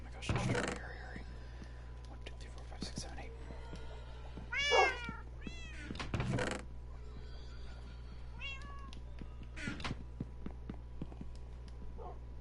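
Minecraft cats meowing several times in short, rising mews scattered across the scene, fairly close, over a steady low game hum with light footsteps and soft background movement.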